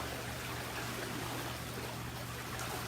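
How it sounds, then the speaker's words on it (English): Swim jets in a Master Spas swim spa run together at full power, a dense, steady broadband rush of churning water with no breaks and no voices. "So that's the sound of the jets, all swim jets on right now."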